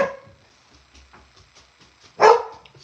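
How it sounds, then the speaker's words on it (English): A single loud dog bark bursts out indoors near the end, after a stretch of quiet room noise, with no talking. "Sorry for my dog."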